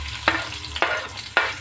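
Onions frying in hot oil for a hotel-style egg gravy, with a low steady sizzle and three distinct spatula scrapes spaced about half a second apart, close by.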